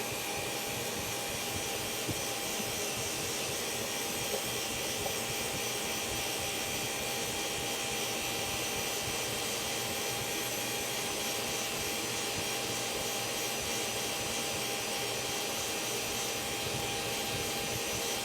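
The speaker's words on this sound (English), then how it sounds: "the sandpaper is really doing just fine, taking care of that ridge." Sandpaper rubs against an old wooden bowl as it spins on a lathe for re-turning, making a steady, loud, unbroken hiss and whir with no talking.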